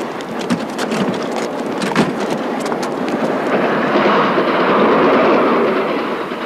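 Subway train running, a steady loud roar of wheels and rushing air with faint rhythmic clacks, continuous and close throughout.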